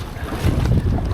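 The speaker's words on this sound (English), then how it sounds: "You can see now there's a gust." A gust of wind while windfoiling on open water, a loud close roar of rushing air buffeting the microphone over splashing water, lasting about a second.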